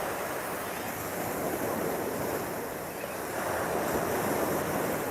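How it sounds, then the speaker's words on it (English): Ocean surf rolling onto a beach, a steady broad wash of crashing waves mixed with wind noise on the microphone, constant and fairly loud with no voices. "look at the ocean"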